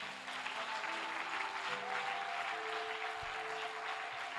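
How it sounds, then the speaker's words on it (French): A church congregation claps and cheers at a French-language worship service, a distant, steady wash of applause that holds throughout. "Acclame pour toi alors."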